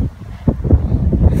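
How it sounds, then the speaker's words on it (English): Strong wind buffets the microphone on an exposed golf course at Addington Falconwood, a steady low roar with gusty swells and no speech. "it was an extremely windy day"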